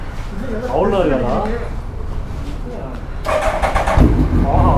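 Royal Enfield Interceptor 650 motorcycle starting up close by, a sudden burst of engine noise settling into a loud, rough idle with people talking over and before it.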